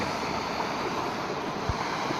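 A small mountain stream flows near a waterfall by the Tin Khole temple, giving a steady, even rush of running water that holds constant throughout with no voices.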